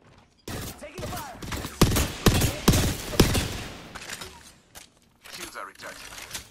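Video game gunfire crackles in a string of sharp, loud bursts and volleys, close up, mixed with clanks and effects before easing off toward the end.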